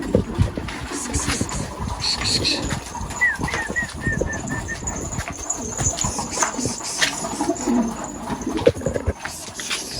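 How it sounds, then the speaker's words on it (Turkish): Bird coos and short calls mix with rustling, scuffing movement and a low background rumble, busy and close throughout. "Hadi lan şimdi kuş çıkacak ya."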